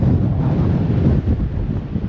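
Storm waves at Dawlish surge and splash up over the sea wall during Storm Nelson, a steady, loud roar of surf mixed with heavy wind buffeting on the microphone, with no clear breaks.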